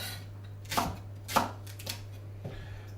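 Three crisp knife strikes on a chopping board as leek is cut, spaced out and close by over a steady low electrical hum, with no talking.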